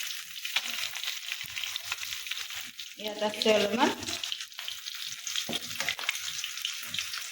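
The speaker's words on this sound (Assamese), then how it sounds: "এয়া মই ভাজি আছোঁ মাছ।" Fish, including local fish, sizzles as it fries in a pan on a home kitchen stove, a steady broadband crackle under a woman's close, continuous talk, with a brief louder burst partway through.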